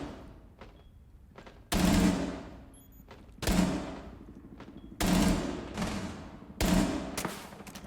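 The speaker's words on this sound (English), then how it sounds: "So he shoots at the gate, misses." Bursts of automatic gunfire from a Rainbow Six Siege match, fired at a gate: four loud, sharp volleys of rapid shots, each followed by decaying echo, with quieter distant shots between them.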